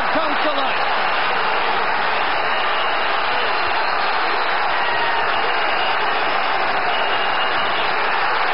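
At a Felix Trinidad versus William Joppy boxing match, the crowd roars loudly and continuously across the arena, a broad wash of cheering that stays steady throughout, with a commentator's voice under the noise.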